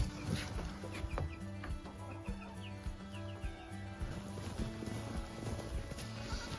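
Backyard chickens cluck in short, scattered calls at feeding time. The clucking is fairly quiet and sits over a busy background of low rhythmic tones and other farmyard noise.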